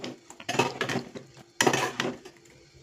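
A chili, turmeric, asafoetida and salt marinade in oil, stirred briefly in a dish, two close bursts of scraping and clinking from the utensil.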